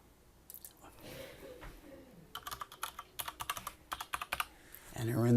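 Password being typed on a computer keyboard during an Ubuntu 17.10 software install: a burst of quick, close key clicks in an uneven rhythm, fairly quiet, with no talking.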